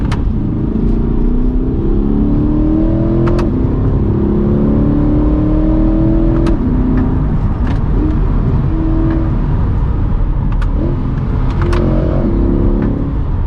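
Mid-engine Corvette C8 accelerating hard through a turn, a steady loud engine drone with rising revs and tyre and road rumble heard from inside the cabin, continuous throughout.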